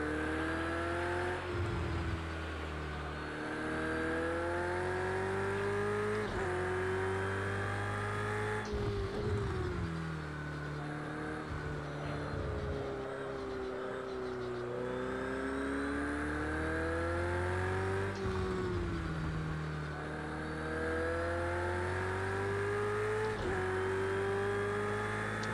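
Race car engine in Project Cars 2, a loud sustained high-revving drone rising and falling through repeated gear shifts, with no talk over it.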